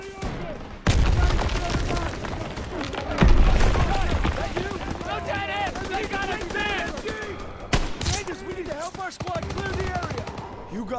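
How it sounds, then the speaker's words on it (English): Bursts of rapid gunfire and loud blasts from a Call of Duty WW2 campaign battle, with shouted voices and music-like tones layered throughout. "Gunfire! We must be near our guys."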